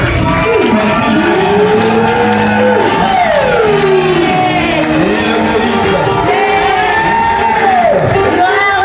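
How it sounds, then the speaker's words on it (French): Church congregation at a French-language prayer rally shouting and cheering loudly, many voices whooping and crying out together in rising and falling waves, dense, sustained and close. "Crie de joie avec des acclamations."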